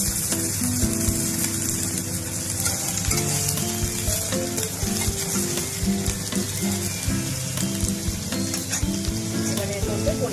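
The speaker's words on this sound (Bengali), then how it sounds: "আলুগুলো ভাজা হয়ে এসছে" Potatoes and onion fry in a pan and are stirred, giving a loud, dense sizzle. Repeated scraping strokes of the spoon come through it, heard close up and without talk.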